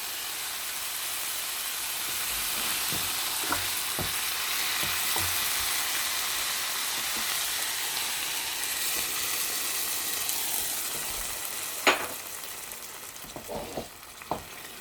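Broth heats and boils in a hot pan for rice pilaf, a steady hissing bubble and simmer punctuated by occasional clicks and utensil taps, with a sharper knock near the end.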